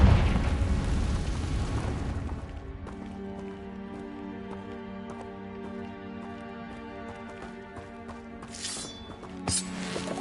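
A Confringo blasting spell bursts in Hogwarts Legacy with a loud, rumbling explosion in the first couple of seconds, then fades into steady in-game music and ambience, with a brief bright crackle near the end.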